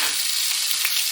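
Tomato paste and ginger-garlic paste fry in a hot pan, giving a steady, loud hiss and crackle heard close up, with no voices.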